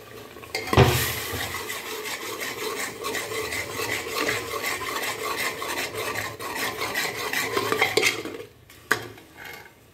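A spoon stirs coriander powder into methi aloo sabzi in a pan, making a continuous close scraping and rubbing against the metal that swells and fades, then ends with a sharp clank and a brief final scrape.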